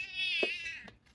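A pet cat gives a single drawn-out meow, fairly quiet and close, trailing off into a short softer sound at the end.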